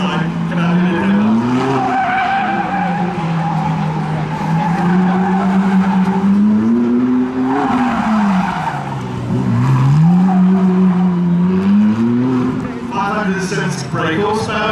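A Ferrari 458 on a demo run at Festival Italia 2022, Brands Hatch, skids with loud, sustained tire squeal that rises and falls in pitch over a roaring engine, close and continuous throughout.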